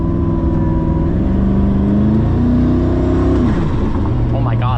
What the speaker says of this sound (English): Oh my God, the turbo blow off is insane.